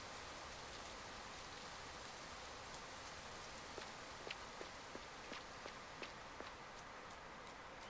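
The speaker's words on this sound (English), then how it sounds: "the rain stops as soon as I leave there." Steady rain falls in the Rising World survival game, a dense even hiss throughout with a few faint soft drips or taps standing out near the end.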